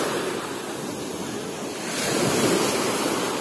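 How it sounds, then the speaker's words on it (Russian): Azov Sea waves wash in steadily at a beach with a broad rushing hiss, swelling louder near the end as surf breaks close by; wind noise mixes in, no voices. "Волны."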